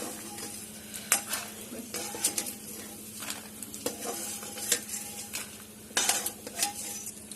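Edible gum (gond) sizzles as it roasts in ghee in a pan, while a metal spoon stirs and scrapes with irregular clinks and knocks, heard close and fairly quiet, with no talking.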